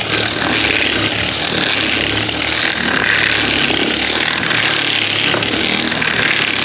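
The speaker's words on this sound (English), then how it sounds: "Like I said, this is supposed to be a finish sander." An old pad finish sander runs on wood with coarse sandpaper, giving a loud, steady buzzing drone with a broad gritty hiss that carries on without a break.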